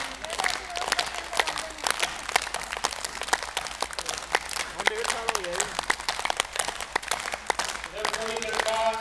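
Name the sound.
audience clapping loudly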